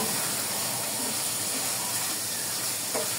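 Loitta dried fish (shutki) fries with chili in a pan while being stirred, giving a steady, loud, continuous sizzling hiss that runs unbroken from start to finish.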